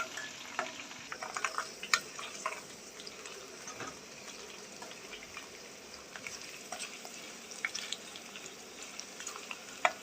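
Cashews frying in a pan of oil for cashew chicken 65, a steady close sizzle with scattered crackles and the occasional stirring clink, no talk.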